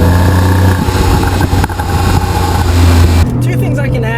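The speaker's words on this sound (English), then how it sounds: "it's just great to hear that unassisted, naturally aspirated sound" A 2013 Porsche 911 Carrera with a manual gearbox and naturally aspirated engine runs with a loud, steady engine note heard up close from inside, its pitch shifting near the end, while someone talks over it.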